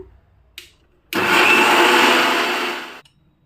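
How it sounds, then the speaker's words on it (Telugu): A mixer grinder blends beetroot with water into a smooth paste, a loud, steady whirring roar that runs about two seconds after a short start-up click and then cuts off. "ఇప్పుడు నేను దీన్ని మిక్సీ పడుతున్న బాగా మెత్తగా బ్లెండ్ చేస్తున్నాను"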